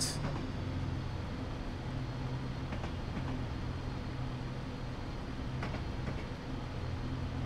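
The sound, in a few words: Class 172 Turbostar train running in video game Train Simulator 2017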